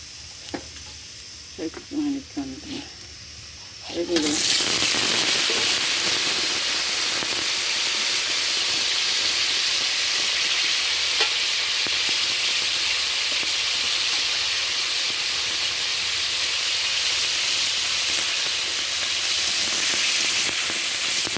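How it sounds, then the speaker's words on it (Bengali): Small Sundarbans crabs dropped into hot oil and fried in a pan, a few soft clatters then a sudden loud, steady sizzle and hiss that carries on for over fifteen seconds with faint stirring scrapes. "এই যে কাঁকড়াগুলো দেবো ছোট্ট ছোট্ট ডাঁচি কাঁকড়া"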